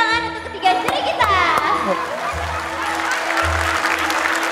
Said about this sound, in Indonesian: beri tepuk tangan untuk ketiga juri kita